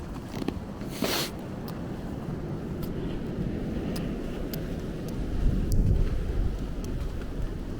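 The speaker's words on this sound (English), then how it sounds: "That was a sound of wind above me, by the way. It's not a plane." Wind howling and roaring overhead during a blizzard snowstorm on a Brooklyn street, a low rumbling broadband gust that swells and recedes, with a brief burst of microphone buffeting near the start.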